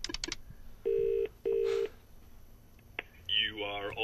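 Telephone keypad dialing: two long steady DTMF tones followed by a short beep and a rising burst of tones, near and clear, before a call to a colleague, with no speech.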